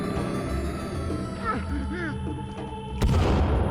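C4 explodes in the survival video game Sons of the Forest, a sudden sharp boom near the end that follows a few seconds of players talking over game background noise.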